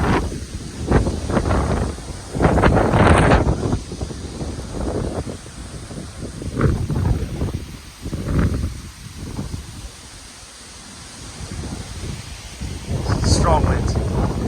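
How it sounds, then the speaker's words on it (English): Strong wind gusts during a Labor Day windstorm at a house, loud roaring surges that rise and fall over several seconds with quieter lulls between, blowing leaves around. "Strong winds."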